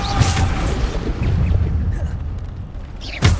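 Bombarda spell explosions in the Hogwarts Legacy video game: deep booming blasts with rumbling tails, one near the start and another sharp burst at the end, loud and close amid continuous game effects.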